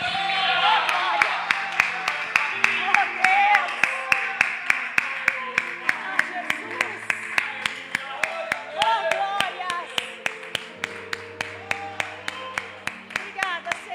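A church congregation at an evangelical worship service claps in a steady rhythmic beat, sharp regular hand claps continuing under a voice speaking and some background music.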